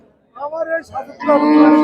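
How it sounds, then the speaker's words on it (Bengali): A Friesian cow moos loudly and close by in a few short bursts at a cattle market in Shariatpur, ending in one sustained, strong bellow. "ফ্রিজিয়ান জাতের খুব সুন্দর একটি গরু"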